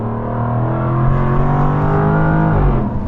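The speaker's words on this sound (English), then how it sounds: "you're hard pushed to get over that V8 sound, and what a soundtrack" A 2022 Jaguar F-Type R P575 with a V8 engine revs loudly and steadily nearby, its deep, rumbling exhaust note swelling, then rising in a final surge near the end, with no talking over it.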